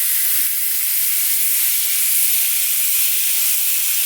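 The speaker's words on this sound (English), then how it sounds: "put it down in your pan" A smashburger patty sizzles steadily in a hot pan, a continuous close, bright frying hiss with no talking.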